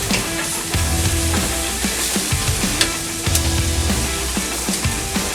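Porterhouse steak sizzles steadily on a hot grill, a bright continuous hiss with crackling pops and occasional low scraping or clinking underneath.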